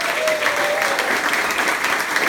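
Steady audience applause at a live improv comedy show, a dense wash of many hands clapping continuously at moderate loudness without pause.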